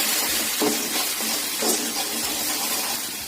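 Ginger paste, cumin powder and turmeric powder fry in a pan with a steady hiss and sizzle, broken up by a few soft scrapes as the spices are stirred.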